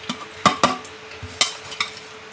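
Ghee-roasted almonds, cashews and coconut tipped into a pan and stirred, a few sharp scraping clinks and taps close by over a faint background.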